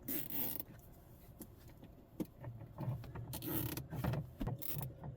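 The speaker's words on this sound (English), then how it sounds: "So now I'm just going to take some zip ties. I'm going to zip tie to the existing wire." Plastic zip ties ratchet tight around an existing wire during a dash cam hardwiring job on a Ford Maverick, a few quiet zipping bursts and clicks with small handling noises between them.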